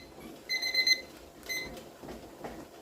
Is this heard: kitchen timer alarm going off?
yes